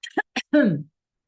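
A few short, harsh coughs up close, followed by a brief groaning voice.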